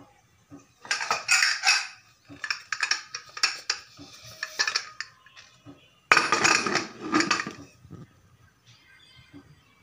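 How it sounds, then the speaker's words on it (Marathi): Metal clinks and clatter as a pressure cooker lid is fitted onto a pot of chicken soup, with a cluster of sharp knocks early and another burst later, then a quieter tail. "आणि कुकरचं झाकण लावून घेऊयात।"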